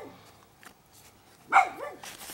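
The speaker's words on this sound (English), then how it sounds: "I'm gonna kill that dog." A dog barks once, close and sharp, after a stretch of quiet background shuffling, followed by a brief whining trail.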